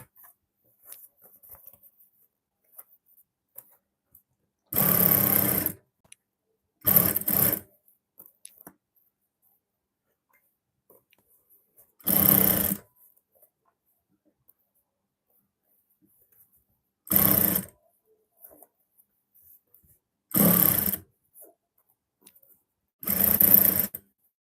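A sewing machine understitches a garment lining in six short whirring bursts of about a second each, separated by long silent pauses, close and fairly loud, with no voices.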